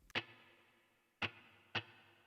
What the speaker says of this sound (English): I'm a big fan of plate reverb